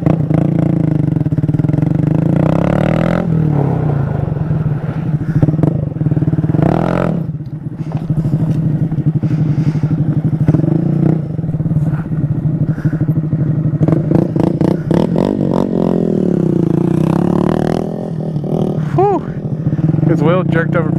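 Honda Grom motorcycle engine running steadily close by throughout, with revs rising and falling and a few clattering bumps, while people talk and shout over it.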